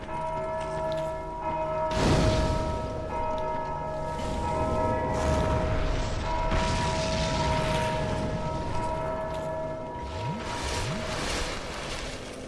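A bell tolls loudly in the Dark Souls 2 video game, with one big struck clang whose long ringing hum sustains over a dense, rumbling game backdrop for many seconds.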